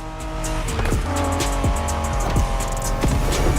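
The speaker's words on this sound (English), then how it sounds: "Are you familiar with the Honda you're driving? The NSX isn't your regular street car." A 1990s Honda NSX sports car driving in The Crew Motorfest: a loud engine drone with rising revs and gear shifts, plus short bursts of tire squeal, close up and continuous.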